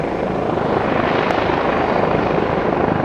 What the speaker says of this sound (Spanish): el ruido de las aspas de un helicóptero